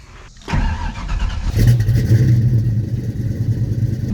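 A supercharged Ford Mustang with a later 5.0 engine, left sitting for 15 years, cranks on its new mini starter after a sharp click, then catches and settles into a loud, steady rumbling idle close by.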